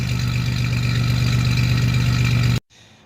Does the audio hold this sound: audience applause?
no